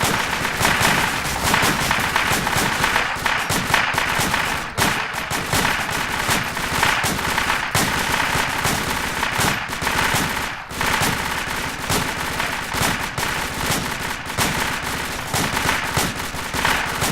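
Sustained rapid gunfire during a fire team operations training exercise: dense, loud bursts of shots overlapping almost continuously, close and harsh, with barely any pauses.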